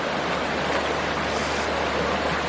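River water rushing over rapids on the Estatoee River at Hemlock Hollow, a steady broadband wash that stays close and continuous, with no voices.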